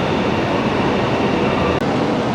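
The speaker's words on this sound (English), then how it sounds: "And our train has just arrived." Steady, loud, broadband roar of a Chinese bullet train arriving at a station, a continuous rushing rumble that holds level throughout, with one brief dropout near the end.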